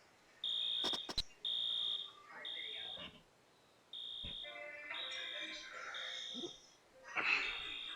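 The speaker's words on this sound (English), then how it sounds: "Oh, nice. Fire alarm." A fire alarm in the video game 911: First Responders sounds as repeated loud electronic beeping tones in steady bursts, with brief sharper noises between them and a voice talking over parts of it.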